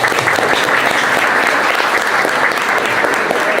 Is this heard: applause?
yes